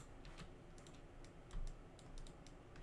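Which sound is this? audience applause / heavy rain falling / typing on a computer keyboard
typing on a computer keyboard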